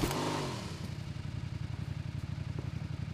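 A motorcycle engine in a video game idles with a fast, even, throbbing putter after a brief louder burst at the start, close and steady with no talk over it.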